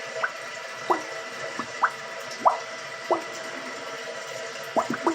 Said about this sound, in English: So now I call it the gurgling, bubbling toilet.